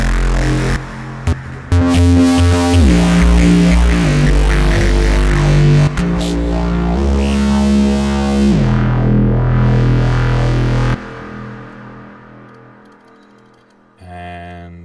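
Rogue synth preset from the Tech Step pack for Massive: a thick, distorted, gliding bass-lead line with shifting pitches and pulsing movement, loud and upfront, then cutting out before a brief return.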